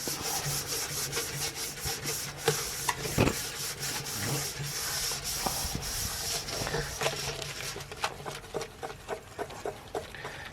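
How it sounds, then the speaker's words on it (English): Brisk, continuous scrubbing and rubbing on the stainless steel surfaces of a BrewZilla Gen4 brewing system, rhythmic scratchy strokes with occasional knocks, close up and fairly loud. "give all the surfaces a good rub"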